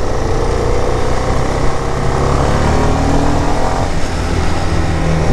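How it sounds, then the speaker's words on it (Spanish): A CFMOTO 300SR sport motorcycle exhaust roars steadily and loudly throughout as the bike rides along, a continuous engine drone with no pauses. "También noto un poco más de sonido en el escape."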